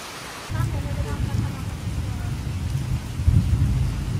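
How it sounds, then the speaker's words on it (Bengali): Rain falls steadily at home in Birbhum, a broad low rushing hiss with a deeper rumble that swells near the end. Faint voices murmur underneath. "একটু বৃষ্টি হলে কি আনন্দ লাগে।"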